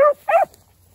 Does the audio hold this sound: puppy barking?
yes